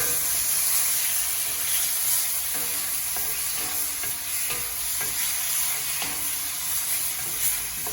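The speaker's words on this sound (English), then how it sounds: "Give that a little stir." Beef stir fry with coconut aminos is stirred in a hot pan, giving a continuous sizzle broken by repeated scraping stir strokes, close and loud with no talking.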